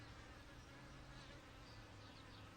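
Honey bees swarm around an open hive during a late-May inspection, making a faint, continuous, dense buzzing drone with no talk.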